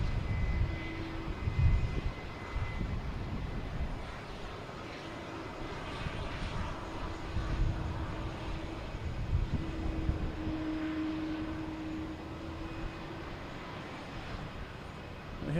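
Iberia Airbus A321neo arriving from Madrid at Boston Logan Airport, a steady low jet engine roar sustained throughout at moderate distance, with faint intermittent voices in the background.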